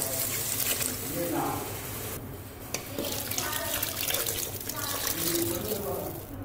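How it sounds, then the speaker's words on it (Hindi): Water is poured steadily into a cooking pot of taro root and meat curry (arvi gosht), making a continuous splashing, trickling stream close by. "अब मैं इसमें पानी डालने लगी"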